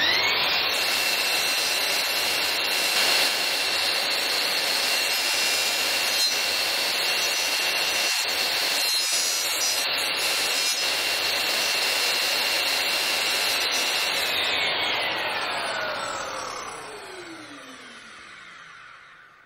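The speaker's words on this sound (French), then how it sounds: "Je coupe de manière précise à cet endroit." Festool Symmetric SYM 70 miter saw slicing through glazing bead: a loud, steady high-pitched motor whine with blade cutting noise sustained for about fifteen seconds, then the motor spins down with a falling pitch.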